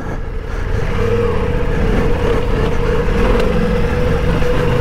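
A Ducati Multistrada V4 Rally motorcycle is under way with a steady, fairly loud engine drone and rushing wind, holding an even pitch throughout with no talk.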